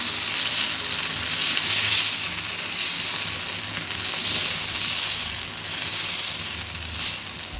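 Cassava (maravalli kizhangu) adai batter crisping on a dosa griddle over low heat, a close, continuous frying sizzle with gently swelling and fading bursts of crackle, no voices.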